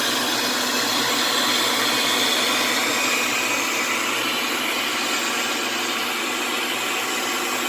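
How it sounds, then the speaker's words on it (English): An electric mixer whisking sugar and oil into a smooth paste for papaya pudding, giving a continuous loud whirring hum with a steady, unbroken buzz close by and no talking. "he's whisking all the sugar and the oil together, and we are doing it until we get a smooth paste"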